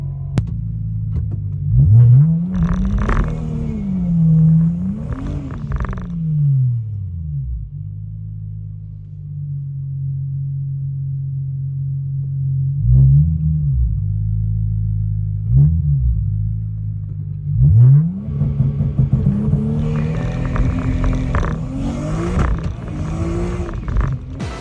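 A single-turbo BMW 335i at a quarter-mile drag race revs hard and close, rising and falling in repeated surges with a steady rumbling idle between them, then roars into a sustained pull at the end.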